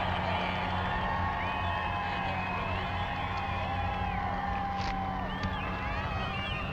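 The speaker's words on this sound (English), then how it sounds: "Listen to the crowd." A crowd cheers outdoors at a balloon fiesta night show, a continuous wash of distant voices and whoops under a steady background hum, with occasional higher shouts rising above it.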